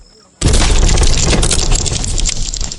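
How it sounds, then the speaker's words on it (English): A kitchen door is kicked in and comes crashing down: after a quiet moment a sudden loud bang bursts out, followed by a heavy sustained crash and rumble of splintering debris that slowly fades, as part of a dramatized story. "the kitchen door behind them came crashing down from a thunderous boot"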